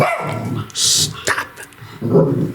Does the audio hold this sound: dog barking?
yes